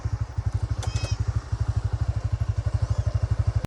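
A motorcycle on a rough rural road after rain at Sitio Macaingalan, Brgy. Puray, giving a steady fast thumping engine pulse, close and continuous, with a brief high metallic clink partway through.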